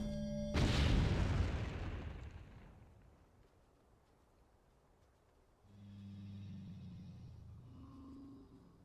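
In Entropia Universe a single loud bomb explosion hits with a sudden boom, then fades over a couple of seconds into a low rumble before a quieter humming tone rises.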